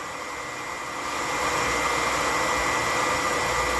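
A milling machine taking another cutting pass with a small 3/8 carbide end mill, a steady loud whining hiss that swells and holds constant after the first second.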